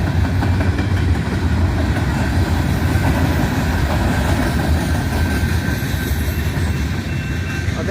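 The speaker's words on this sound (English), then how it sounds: "Oh, there's the end of the train" A train passes close by at night in a loud, continuous rumble of wheels and wagons, steady from start to finish with no talking.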